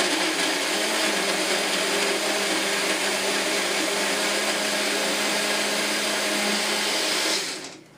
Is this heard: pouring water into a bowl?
no